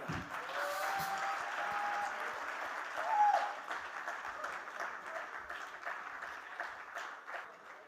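An audience claps steadily to welcome an auto sales master onto the stage at an Atomy India event. The applause is moderately loud, sustained and gradually thins toward the end.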